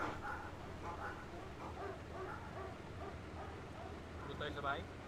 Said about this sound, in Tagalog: Oh, mga aso oh.